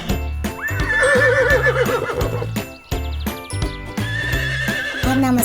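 Two loud, drawn-out horse neighs, an early one and a later one, ring out over a continuous, even clip-clop of hooves.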